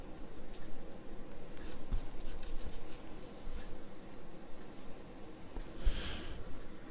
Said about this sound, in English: Let's erase what's left.